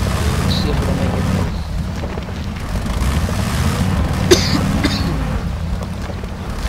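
A man with a cold coughs and clears his throat a few times, fairly close, over a constant loud rumble of wind or engine noise that fills the background.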